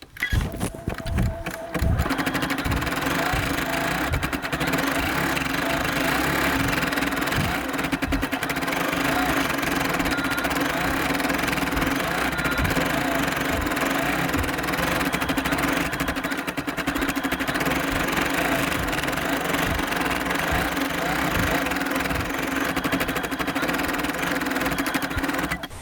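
An embroidery machine stitches a flower design onto jeans, a continuous fast mechanical whirring and needle chatter running steadily and close for the whole stretch after a brief start-up, with no other sounds on top.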